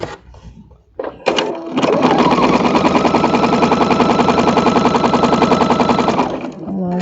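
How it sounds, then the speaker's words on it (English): Sewing machine stitching two quilt pieces together, one continuous loud run of rapid mechanical stitching for about four seconds, starting after a few brief handling noises and ending with a short fade, close up. "And now I will sew 2 together."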